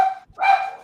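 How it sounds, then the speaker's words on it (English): Loose dog barking twice in quick succession, short sharp yaps, close and clear with no talk over them. "Another dog on the loose. It's not my dog."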